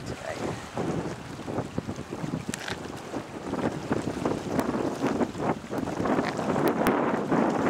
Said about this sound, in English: It's pretty breezy today.